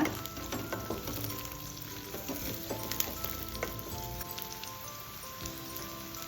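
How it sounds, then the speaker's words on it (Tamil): Shallots and curry leaves sautéing in hot oil in a pan, a steady close crackling sizzle with faint stirring scrapes, no voices. "எல்லாத்தையும் சேர்த்து வதக்கி விடுங்க"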